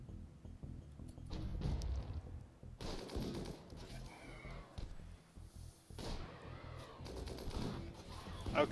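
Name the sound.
gunfire in the video game Rimworld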